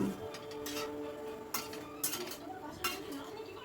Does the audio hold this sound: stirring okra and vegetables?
yes